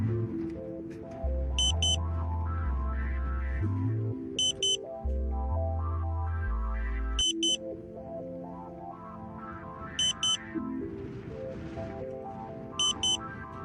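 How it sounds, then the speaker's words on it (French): Tooway Ka-Sat satellite modem giving out a series of short, high electronic heartbeat tones, five quick beep clusters spaced a few seconds apart over a low steady background with some music-like hum. "Vous devez maintenant réinitialiser le modem et attendre 7 tonalités de battement de cœur."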